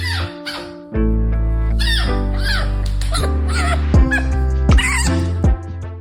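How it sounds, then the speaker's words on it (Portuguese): A fennec fox barks, whines and howls in a run of close, high, wavering cries and short sharp yelps, repeated several times over a sustained tonal background. "Os fenecos também gostam de falar. Eles latem, choramingam e uivam de diferentes maneiras."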